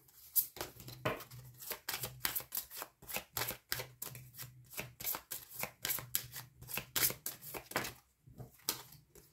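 Tarot cards are shuffled up close in a quick run of crisp riffling bursts with short pauses between them. The shuffling is fairly soft, with no voices.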